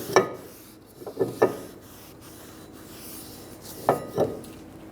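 A rag wipes a freshly sprayed Honda Accord rear brake rotor, giving a few quiet scattered rubbing and scraping strokes with soft pauses between them.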